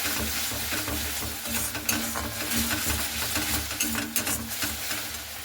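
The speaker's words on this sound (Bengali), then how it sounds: "মশলাটা কিন্তু খুব সুন্দর করে কিন্তু এইভাবে একটু নাড়াচাড়া করে নিতে হবে" Okra masala is stirred in a frying pan, with repeated spatula scrapes and knocks over a steady sizzling background, close and continuous, without talk.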